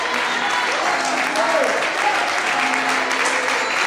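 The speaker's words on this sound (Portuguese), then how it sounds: "glorifique e aplauda ao nome do Senhor essa noite" A church congregation applauds loudly and continuously, a dense wash of clapping filling the space, with faint voices mixed in.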